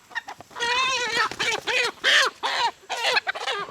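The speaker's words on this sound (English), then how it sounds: "we gotta get these chickens in here." Farm chickens cluck and squawk in a string of loud, close, repeated calls, several bursts in quick succession without talk.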